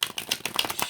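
Playing cards being shuffled by hand during a card reading, a quick series of soft riffling flutters and light slaps close by, with no speech.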